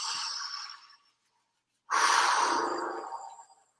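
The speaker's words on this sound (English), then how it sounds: "Take a nice big breath." A long, deep breath during a grounding and uplifting energy movement session: a slow airy inhale, a brief pause, then a fuller, louder exhale that gradually fades out.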